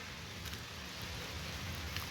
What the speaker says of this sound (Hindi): बारिश तेज़ हो रहा है, थोड़ा थोड़ा भीग भी गया हूँ